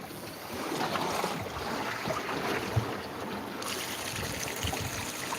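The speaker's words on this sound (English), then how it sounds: "we've got that bilge pump going on this side for the first time on the trip that I've heard it" A boat's bilge pump runs on the ocean at night during a fishing trip, giving a steady close whir with trickling water and a thin high whine that cuts out partway through.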